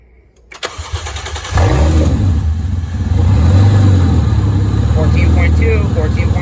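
Toyota 2JZ-GE engine swapped into a Nissan 240SX drift car, cranking with a quick starter whir before catching and settling into a loud, steady idle with a brief rev.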